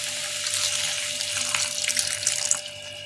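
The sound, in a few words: hot water poured into pan for homemade tofu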